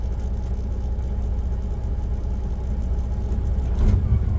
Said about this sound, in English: The truck humming like a sewing machine.